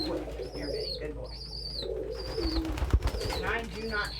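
Pigeons in a crowded loft coo and flutter continuously amid many birds moving, with a person talking and calling to them over the birdsound.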